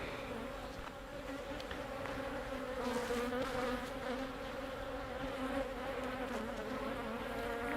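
Honey bees buzz around an open hive during an inspection on a hot, still day, a dense, steady drone of many insects with individual bees passing close now and then, no voices.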